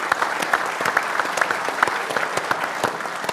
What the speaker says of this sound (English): give yourself a round of applause as well